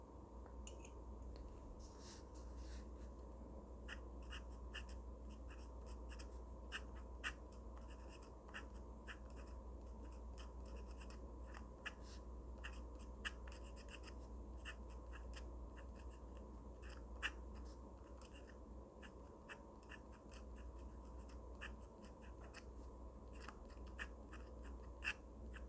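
Pen scratching across paper on a Daiso calligraphy pad, a steady faint scratchy stroke sound with small ticks as the tip lifts and lands, continuous and close with no talking.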